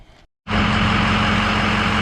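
A 2007 Ford F250 with the 6.0L diesel engine rumbles loudly at idle after a brief silence, a steady close clattering drone running without break.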